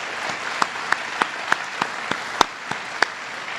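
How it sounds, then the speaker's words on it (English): Sparse, evenly spaced claps from an audience at a sustainability conference, about ten sharp hand claps over a few seconds with quiet room tone between them and no voices. "Let's give them a round of applause for their vision."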